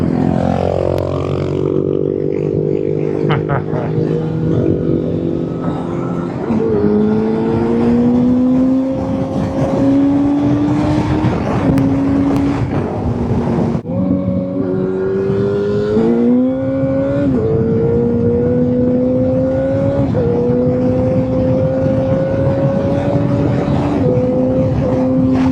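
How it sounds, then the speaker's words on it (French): A Yamaha FZ8 motorcycle engine runs loud and continuously while riding, rising in pitch through several gear changes with steady wind rumble underneath. "quel bonheur de refaire de la moto"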